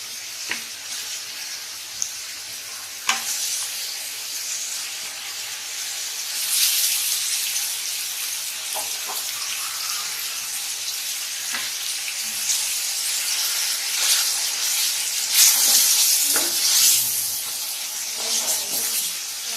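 Washed chicken pieces go into a pan of frying onions, giving a steady loud sizzle with occasional clatters and stirring scrapes, the hiss swelling in bursts over about twenty seconds.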